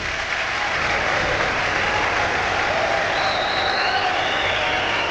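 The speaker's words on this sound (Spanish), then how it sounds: "Con un aplauso" A theatre audience at an evening variety show on the islands applauds in a dense, steady roar that holds at a constant level throughout, with no break and no voices on top.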